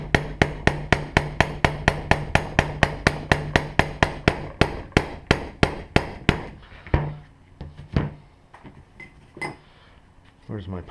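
Rapid, evenly spaced metallic hammer strikes seating a Mazdaspeed 3 pivot shaft assembly on a flimsy table, about twenty close blows, then slower scattered taps and clinks, with someone talking between hits.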